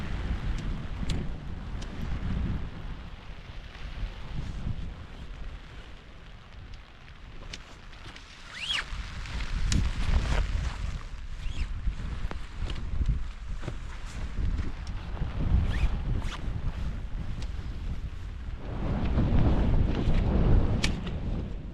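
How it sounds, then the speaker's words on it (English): Gusty wind sweeps across an exposed mountain campsite during a rainy solo camping trip, a steady broadband roar with low rumbling buffets that swell and ease, strongest near the end, with no talking. "the winds aren't too bad right here. I get the occasional gust, but it's nothing like it is up top."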